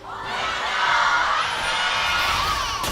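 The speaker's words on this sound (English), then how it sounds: "Crowd's going insane as we're getting ready for game number 3" Esports arena crowd at an LCK League of Legends match cheering and whooping loudly, a steady roar of many voices with shouts rising over it for the full stretch.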